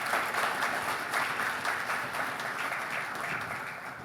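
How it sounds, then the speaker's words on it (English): A crowd at a city summit gives a round of applause, sustained dense clapping heard from within the room, loud at first and easing slightly toward the end, with no talking. "let's give them a round of applause"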